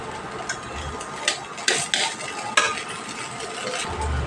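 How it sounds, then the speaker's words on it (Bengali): Vegetables being stir-fried for Bengali-style chire polao (poha) in a pan, with scraping stirs and brief clatters of a spatula against the pan over a soft sizzle, alone with no talk. "প্রত্যেকটা সবজি দিয়ে ভালোভাবে ভাজা করে নিতে হবে"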